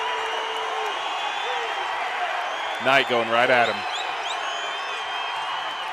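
A college basketball crowd at a Southern Utah vs UTEP game keeps up a steady, distant roar and cheering, while an announcer's voice briefly cuts in near the middle.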